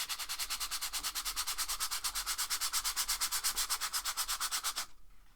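Electric sander smoothing a large marble base, a loud close rasping buzz that pulses rapidly and evenly for about five seconds before cutting off abruptly, with no voices.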